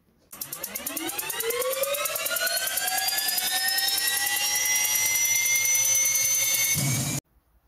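Rising whine like a jet engine spooling up: a swelling tonal sweep climbs steadily over several seconds, stays loud and sustained, then cuts off sharply near the end, with no talk.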